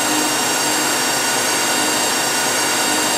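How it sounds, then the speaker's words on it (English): A loud, constant roaring whoosh of a hot air blower on a polypropylene line runs without change, a steady broadband rush close by with no voices. "What you hear in the background is the hot air blower."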